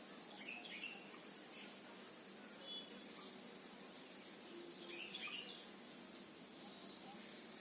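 Faint bird chirps and insect-like trilling sound at a Panchavati farm, soft and distant over a steady hiss of outdoor ambience, with a few brighter calls near the end.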